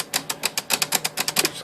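A Smith Corona electric typewriter with its power clutch mechanism cycling makes a fast run of crisp mechanical clacks and snaps in an irregular rapid rhythm, close and fairly loud, with no talking.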